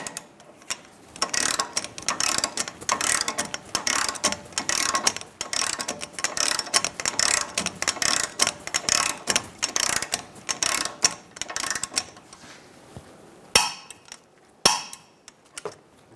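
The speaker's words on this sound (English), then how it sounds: "Snug down the bolt and torque it to 144 foot-pounds" A hand ratchet clicks rapidly and steadily while tightening a front lower control arm bolt on a 2008-2017 Buick Enclave, then slows to a few loud, isolated clicks at the end of the run.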